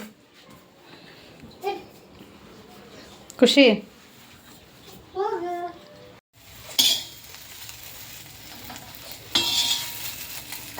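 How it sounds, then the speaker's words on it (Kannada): Okra (bhindi) frying in a pan while a utensil stirs it, with a steady sizzle and scraping, clattery strokes, as voices talk over the cooking. "ಬೆಂಡೆಕಾಯಿ ಫ್ರೈ ಕೂಡ ಮಾಡ್ಕೊಂಡಿದ್ದಾಯಿತು"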